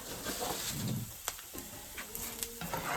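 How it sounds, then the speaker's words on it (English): Chopped garlic fries quietly in a pan, a soft, faint sizzle with a few light taps and stirring noises, heard alone without talk. "Let's fry for 2 minutes."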